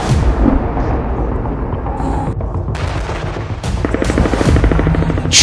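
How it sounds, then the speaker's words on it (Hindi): Air strikes and bombing hit Khan Younis in Gaza with loud, dense, rumbling blasts and crackling bursts, a few sharp impacts standing out over continuous heavy noise. "खान यूनिस पर खूनी हवाई हमले।"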